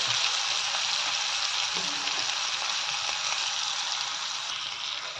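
Chili, ginger, garlic and coriander frying in a pan over medium heat, a loud, dense, continuous sizzle that eases slightly toward the end.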